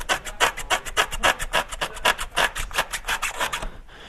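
Rapid rhythmic rubbing and rasping as an intercooler on a 2015 Subaru WRX is worked back and forth out of its rubber hose, a steady series of close scraping strokes with no talk.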